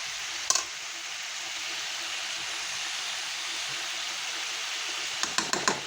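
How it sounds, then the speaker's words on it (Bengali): Meat sizzles and simmers with tomato sauce and a little water in a pan, a soft continuous bubbling hiss with a brief knock near the start and a few clicks of stirring at the end. "এই দেখুন এটা এখন আমি কষছি, একটু জল দিয়েছি।"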